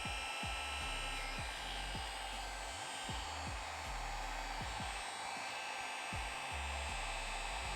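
Hair dryer blowing warm air while styling a wig, a steady close whooshing hum with a faint repeating low pulsing underneath, no talk.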